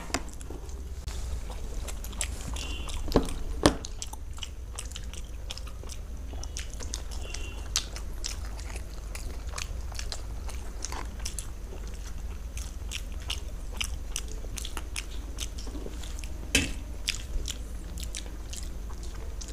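Close biting and chewing during a competitive eating challenge of raj kachori, dahi puri, egg mughlai paratha, chicken cutlet and pantua, with steady soft mouth sounds and a few sharper crunchy bites, no talking.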